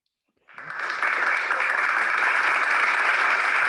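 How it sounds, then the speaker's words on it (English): Canned applause recording plays after a philosophy lecture on moral progress, starting abruptly from silence and swelling into steady, full clapping that holds to the end. "Oh, canned applause."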